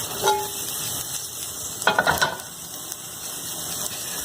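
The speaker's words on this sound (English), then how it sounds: "you'll have a nice little sauteed shrimp with butter" Shrimp sauté in butter in a pan with a low, even sizzle, and a short burst of utensil clatter comes partway through.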